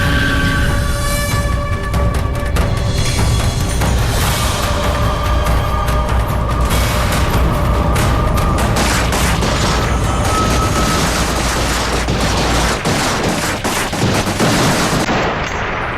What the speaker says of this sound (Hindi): जैसे ही पुलिस ने घेराबंदी की तुरंत से फायरिंग शुरू हुई